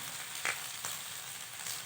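Onions and garlic sizzle steadily in a hot pan for a village-style country chicken curry, a constant close frying hiss with two brief louder bursts as the pan is stirred.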